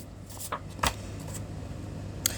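Tarot cards being shuffled by hand, a few quick soft riffles and flicks close up, with a faint tap near the end, quiet and with no voice over them.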